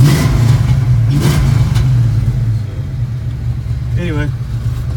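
Reef blue 1993 Ford Mustang fox body coupe idling and revving while still cold, a close, loud low engine rumble with a slight flutter that eases off partway through, with brief voices over it.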